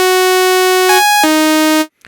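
Bright, buzzy pulse tone from an initialized synth patch in Vital, played as two sustained notes, the second pitched lower, each cut off cleanly, loud and dry.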